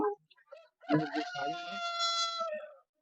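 A few short clucks from nearby chickens in a rain-soaked, muddy yard, then one long, loud rooster crow rings out close up.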